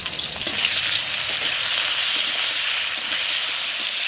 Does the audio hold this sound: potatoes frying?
yes